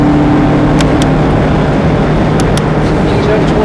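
A Ferrari F430 accelerates hard around Thruxton circuit, its engine a steady, loud in-car roar heard from inside the cabin, with a voice faintly talking over it.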